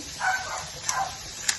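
A dog yips and barks a few times in the background of a kitchen where tartiflette is being made, the short sounds fairly soft and spaced irregularly over a steady murmur.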